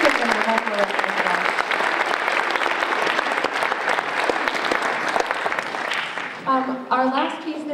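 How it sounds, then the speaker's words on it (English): A school band concert audience applauds middle school student soloists, with steady clapping from a sizable crowd at moderate distance, and a voice starts talking over the tail end as it fades. "can you give them a round of applause?"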